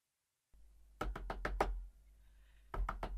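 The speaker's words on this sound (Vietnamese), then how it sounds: "Tiếng đập cửa từ bên ngoài đã vọng tới." Firm knocking on a door from the outside comes in two bursts, a quick run of about five raps followed after a pause by three more, close and loud with a faint tone in between.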